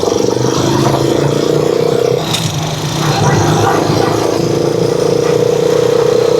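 A Rusi Chariot 175 motorcycle engine runs steadily nearby, its low growl holding with a slight dip in the middle, with a brief clattery burst partway through.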